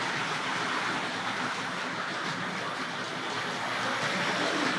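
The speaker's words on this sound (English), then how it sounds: "I can hear the diesel locomotive storming round from my right." A model railway diesel locomotive runs round the track, giving a steady, continuous rolling rumble and rattle at even loudness for the whole stretch, with no talking.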